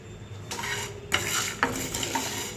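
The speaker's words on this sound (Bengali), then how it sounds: "এর মধ্যে দিয়ে সবগুলোই আমাকে নেড়ে নিতে হবে" Whole spices, nutmeg, mace, almonds, cashews and dried chillies, are stirred in a dry-roasting pan with a spatula, making scraping swishes and a few sharp clicks over a soft background hiss, close and without talk.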